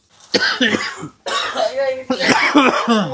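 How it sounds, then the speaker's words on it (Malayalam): Several harsh coughs from fumes while frying bread come in quick bursts, close and loud, with short gaps of silence between them. "ബ്രെഡ് പൊരിക്കുമ്പോൾ ഇങ്ങനെയും ചുമക്കുക."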